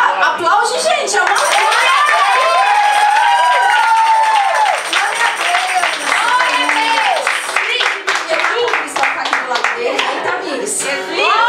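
A church congregation at a youth service applauds loudly and steadily, with shouting and cheering voices mixed through the clapping the whole way.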